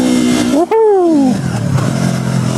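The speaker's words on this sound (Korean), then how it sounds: "간질간질한 이기통 소리." Yamaha YZF-R3 two-cylinder motorcycle engine revs hard up and then drops, a loud, close, rising and falling exhaust note with a brief dip at the start.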